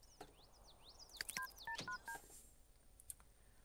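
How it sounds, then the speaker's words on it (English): A cell phone in The Sims 3 being dialed: a quick run of distinct keypad tones, mixed with light chirpy interface blips, close and clear against a quiet background without talk. "Click cell phone, call sim, invite over."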